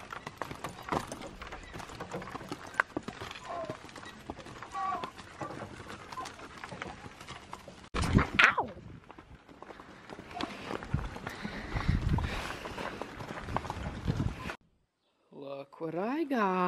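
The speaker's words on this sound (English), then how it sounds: "Two horses on different sides of the road taunting Applejack" Horse hooves clip-clop on a road, irregular near steps and shuffles under frequent talking, with a brief pause and a louder knock partway through.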